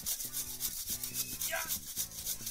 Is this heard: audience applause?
no